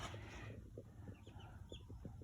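Four chickens in an indoor pen on a homestead, soft scattered clucks and short calls at irregular intervals over a low background hum, fairly faint and close.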